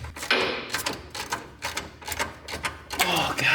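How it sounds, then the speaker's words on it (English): A wrench works 10mm bolts off a Mazda Miata fuel filter, producing a run of rapid, close metallic clicks and ratcheting bursts with short pauses between them. "we're gonna take these 10mm bolts off"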